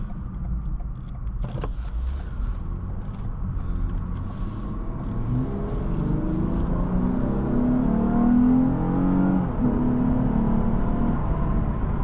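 From inside a 2025 Lexus IS 350 F Sport Design, the engine note rises steadily as the car accelerates, a smooth, building drone and road rumble that climbs in pitch, with no talking.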